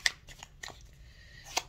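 A few quick papery riffles and snaps of tarot cards being shuffled, close and crisp, with short pauses between.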